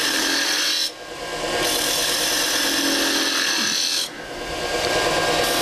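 A spindle gouge cuts a cove in wood spinning on a lathe, giving a loud, close, rough scraping hiss in two long passes, each broken by a short drop in level.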